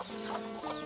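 A country hen on a backyard farm, walking about with her ducklings and giving a brief, soft clucking call close by.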